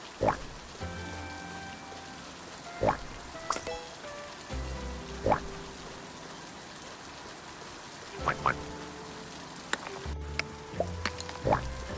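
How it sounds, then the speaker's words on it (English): Soft, steady rainfall in the farming life-sim game Littlewood patters gently under calm music, with occasional brighter drip-like accents spread through the passage. "I love the sound of the rain."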